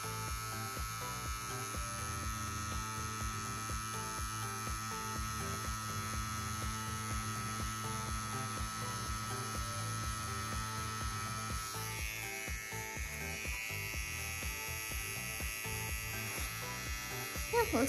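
A CNC X-WE wireless tattoo pen runs steadily while lining a stencil on silicone practice skin at mid-range voltage, giving a continuous close electric buzz throughout, with talk over it.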